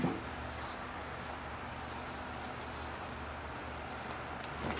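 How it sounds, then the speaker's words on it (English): Water poured onto a dry potted bonsai tree, a soft steady splashing and trickling stream, quiet and continuous throughout. "here I go with the water"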